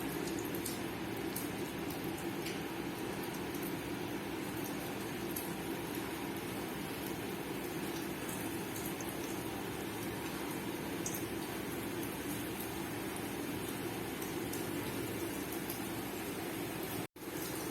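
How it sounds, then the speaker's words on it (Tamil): Vegetable bonda balls sizzle in hot oil in a kadai, a steady dense crackle and hiss of frying that carries on evenly throughout with no talking. "இப்போ சின்ன சின்ன உருண்டைகளை உருட்டி எடுத்து நம்ம எண்ணெயில் போட்டுக்கலாம்"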